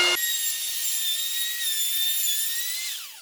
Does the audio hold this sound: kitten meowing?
no